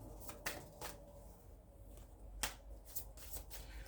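A deck of Dark Mirror tarot cards being shuffled by hand, with quiet riffling bursts and sharp card snaps spaced irregularly across a soft, close recording.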